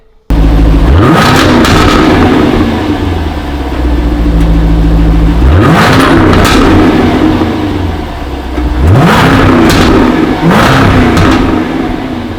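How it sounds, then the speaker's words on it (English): A Jaguar F-Type's supercharged 5-litre V8 revs hard several times, each rise in pitch climbing and falling back, with loud crackling bursts from the exhaust between revs. "Both are 5 litre V8s, supercharged, and well, this is what the F Type sounds like."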